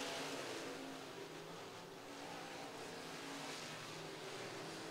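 IMCA stock cars roar around the RPM Speedway dirt track in a steady, distant engine drone, a continuous wash of racing noise with no clear single pass.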